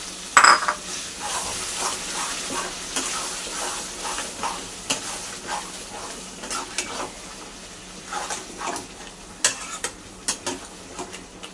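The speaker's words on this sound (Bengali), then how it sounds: "আমি এই যে ধনে পাতা আর কাঁচা লঙ্কা যেটা বেটে রেখেছিলাম সেটাও কিন্তু দিয়ে দিচ্ছি।" Chicken cooking in a pan with ground coriander leaf and green chilli paste, giving a steady sizzle with repeated scraping stir strokes and light clinks of utensils, moderately close with no talking.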